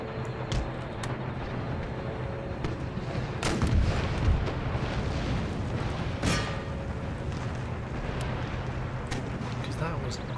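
Artillery shrapnel bombardment in the video game Empire: Total War, a dense barrage of booms and cracking shots, with a louder burst of impacts midway and a voice talking over the din.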